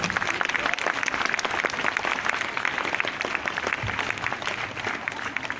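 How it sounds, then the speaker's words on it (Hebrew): Sustained applause from a crowd of school staff and parents at a gathering, dense hand clapping that stays steady and loud throughout. "מחיאות כפיים."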